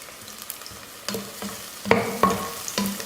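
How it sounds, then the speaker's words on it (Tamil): Sliced onions and green chillies sautéing in a hot pan, a continuous sizzle broken by a few sharp scrapes and clinks as they are stirred, heard up close with no speech. "இது நல்லா பொன்னிறமாக வதங்கட்டும்"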